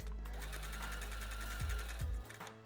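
A sewing machine stitches layered white and dotted tulle for a wedding dress, running in a steady fast whir close by, with two brief thumps near the end before it slows and stops.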